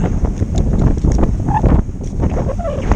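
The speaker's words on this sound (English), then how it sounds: "just to show you how strong the wind is" Strong gusty wind buffets a homemade furry microphone cover outdoors, a loud, continuous low rumble with fluctuating gusts and no voices.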